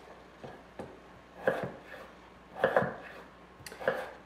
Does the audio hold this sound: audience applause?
no